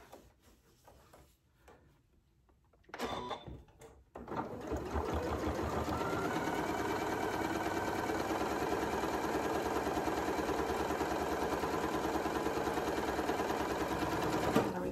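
A Janome Memory Craft MC9450 sewing machine stitches a face mask: after a quiet stretch and a brief start, it settles into a steady, even, close mechanical whir that continues to the end.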